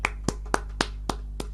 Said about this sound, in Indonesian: Kita beri tepuk tangan saudara